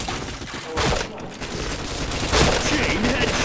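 Rapid gunfire in a video game shooter, repeated sharp bursts and cracks layered densely together at close range, loud and continuous throughout.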